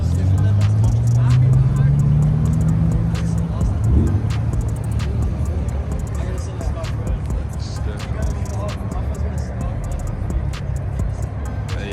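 At a private car meet in Atlanta, an engine revs up loudly in a rising sweep, then traffic keeps rumbling past. People talk and shout over the vehicles throughout.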